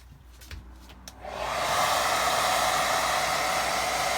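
A hair dryer switches on and blows steadily to dry a wet watercolour river painting, a loud close whooshing roar after a few faint taps.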